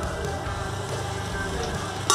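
Ginger garlic chicken cooks in a pan with a steady sizzle and stirring scrape, ending in a brief louder clatter.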